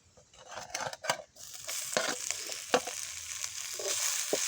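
Mustard seeds and dried red chillies fry in hot oil for a traditional crab fry, a crackling sizzle that builds and thickens over a few seconds, with sharp pops and spatters and a few utensil clicks near the start.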